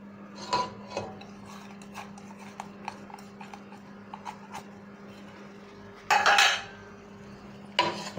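A spoon stirs aloo matar sabzi with peas and fenugreek in a pan, making light metallic scrapes and taps against the cookware, with a steady hum underneath and a couple of louder clanks.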